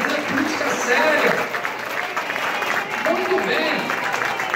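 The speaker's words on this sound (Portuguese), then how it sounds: "uma salva de palmas para as mulheres" Audience at a PSDB political gathering in São Caetano do Sul applauding for the women, steady clapping under voices talking and calling out across the crowd.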